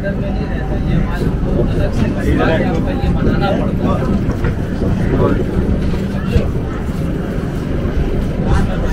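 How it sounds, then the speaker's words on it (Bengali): Kolkata–Dibrugarh summer special passenger train just departed Kishanganj in Bihar, running with a continuous loud rumble and rattling from inside the carriage, steady throughout with no pauses. "দু মিনিট বাদেই কিষানগঞ্জ থেকে ট্রেন ছাড়লো।"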